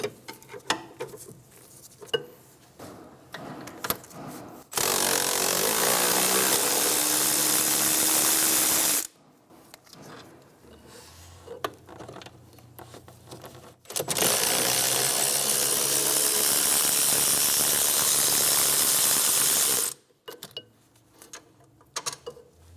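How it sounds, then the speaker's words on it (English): On a 2003-2007 Infiniti G35, brake caliper bolts come off the rear hub with a 19mm socket: two long loud spells of whirring, grinding power-tool drive, separated by quieter stretches of small metallic tool clinks. "Using a 19mm, remove the caliper bolts."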